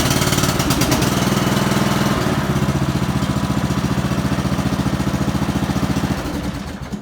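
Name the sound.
Yardman MTD lawn tractor engine running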